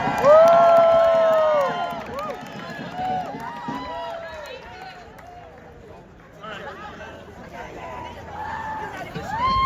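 A large crowd at a rally in New York City cheers and roars loudly, with whoops and shouting that swell at the start and stay steady throughout.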